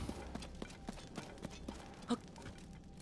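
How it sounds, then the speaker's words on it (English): Horse hooves clip-clop at a steady trot in The Legend of Zelda: Tears of the Kingdom, a regular run of soft hits with one louder thud near the end, heard alone at low level. "Get back on my horse."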